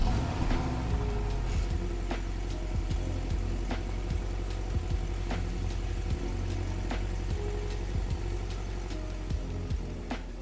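An Aventurine Green Porsche 718 Cayman drives along Cornish roads on a sunny day, its engine a steady, close, continuous drone with a layered mechanical hum and a few faint clicks, with no talking.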